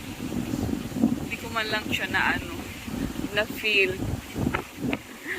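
Strong typhoon wind gusts buffeting the microphone near the water where boats are moored, a steady rushing roar under a person talking throughout.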